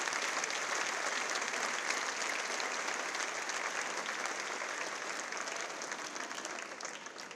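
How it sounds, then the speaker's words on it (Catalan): A large crowd applauds at the presentation of town festival representatives in Amposta: sustained, dense clapping, fairly distant and even, slowly fading toward the end. "demano també un fort aplaudiment no només per a ells, sinó també per a les entitats que representen"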